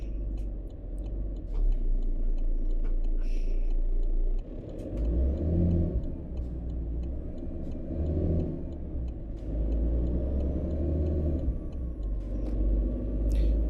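A truck engine in American Truck Simulator rumbles and revs in waves, with a hiss of air brakes and shifts in pitch as it accelerates and slows.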